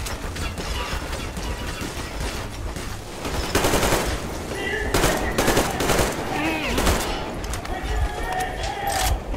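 Gunfire in the video game Metro Exodus: a steady stream of muffled shots and impacts over constant background rumble, with a few sharper bangs standing out and no pause in the barrage.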